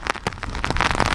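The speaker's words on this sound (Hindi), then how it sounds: "बारिश बहुत ज़्यादा है" Heavy rain pours down during Cyclone Biparjoy in Gujarat, a dense, steady patter of drops on surfaces with sharper splashes scattered through it, loud and close with no voices.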